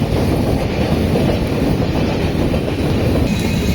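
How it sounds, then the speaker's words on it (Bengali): Uttarbanga Express on the Sealdah–New Jalpaiguri run, entering Dankuni Junction in the rain, gives a loud, continuous close-up rumble and rattle of wheels on rails, with no voices. "আমাদের ট্রেন ফাইনালি এখন ডানকুনি জংশনে ঢুকলো"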